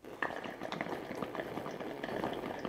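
Water in a shisha hookah bubbles quietly as smoke is drawn through it, giving a soft, continuous gurgle with small irregular pops up close.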